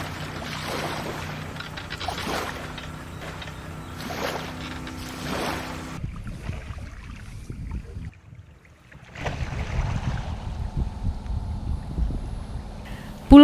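Waves break on the beach of Rani Island, a small island south of Supiori Regency in Papua, Indonesia, under a soft morning breeze, with swelling, washing surges, a brief lull, then renewed surf.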